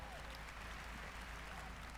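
A crowd at Bethesda's E3 presentation cheering and clapping, a steady wash of applause that sounds faint and distant, with no breaks for the whole moment.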